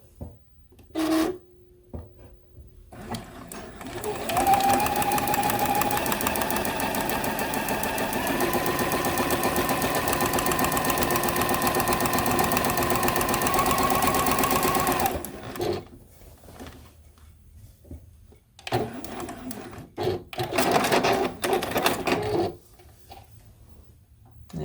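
A sewing machine runs a long continuous stitch on a quilt top, loud and steady for about ten seconds, followed by shorter start-stop bursts of stitching with brief pauses between.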